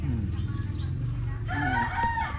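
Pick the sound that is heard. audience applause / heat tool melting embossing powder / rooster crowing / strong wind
rooster crowing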